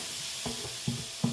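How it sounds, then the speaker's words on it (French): Small onions sauté in a pan with a low, steady sizzle. A few soft scrapes of a spoon stirring them sit on top of the sizzle, close up and with no talk. "on fait bien revenir nos petits oignons"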